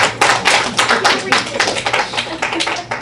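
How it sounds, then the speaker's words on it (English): An audience at a high school speakers' academy graduation claps in dense, steady applause for about three seconds, with voices mixed in. "Give a round of applause, please."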